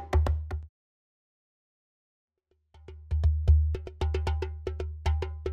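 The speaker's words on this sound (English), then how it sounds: "a strong bass sound also comes from the open end of the drum." Deep, boomy djembe hits recorded by a microphone beneath the open bottom of the drum, with strong low thump: a short burst, a pause of silence, then a steady run of bass-heavy strokes.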